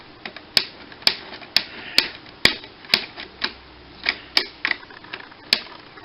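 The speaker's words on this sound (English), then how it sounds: "I don't like that snapping sound." Sharp plastic clicks and snaps from a Transformers Titans Return Astrotrain toy part, about a dozen irregular crisp cracks close up, with quiet handling noise between them and no talking.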